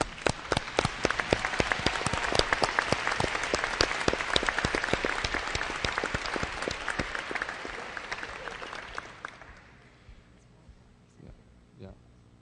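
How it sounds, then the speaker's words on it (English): Audience applause at a university convocation award, a loud, sustained burst of many hands clapping for about nine seconds before it tapers off and a couple of faint handling knocks follow. "A big round of applause for Mason."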